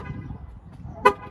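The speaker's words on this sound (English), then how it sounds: "It'll honk twice." A 2021 Dodge Charger SXT sounds its horn on remote start, one short, sharp toot standing out near the end after a quiet stretch.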